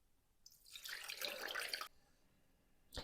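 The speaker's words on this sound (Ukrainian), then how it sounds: "До каструлі вливаю воду." Water pours from a tap into a cooking pot that will heat jars of strawberry compote for winter canning, a steady splashing stream lasting about a second and a half before stopping.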